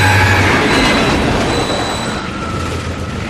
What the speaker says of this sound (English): why is there a flaming train going